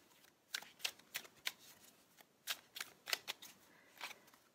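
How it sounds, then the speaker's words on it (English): Tarot cards shuffled by hand in a series of crisp riffling bursts, about a dozen short rustling flicks in an irregular rhythm, close and moderately quiet with no talking. "having given it a shuffle, I'll just split the deck and draw 3 cards again."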